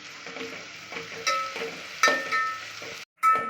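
Onion, garlic and ginger fry in a pan with a soft sizzle. Intermittent clinks and scrapes of stirring come through close by, with no talking.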